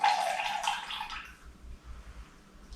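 Liquid for a bissap-based cocktail splashes into a glass in a short, bright pour lasting about a second, then tails off to a faint trickle and near quiet.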